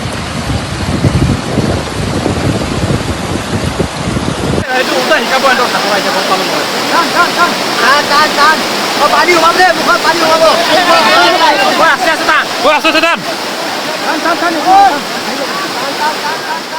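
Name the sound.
fast-flowing floodwater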